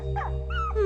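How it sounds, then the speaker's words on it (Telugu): A dog gives a brief, high, wavering whimper, two short whiny cries close by, over a steady low background hum. "ఈ కుక్క నాదే"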